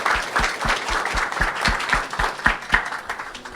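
Applause from a seminar audience on industrial ammonia refrigeration, with distinct claps in a fairly steady rhythm at moderate loudness, fading near the end.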